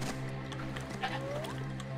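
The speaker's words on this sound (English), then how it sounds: "Oh my god, it's a goat!" A goat in the Far Cry 2 video game gives a short, wavering bleat over a steady background hum of game ambience.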